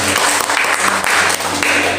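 Congregation clapping at an apartment worship service, a short, loud burst of many hands applauding together, close and dense.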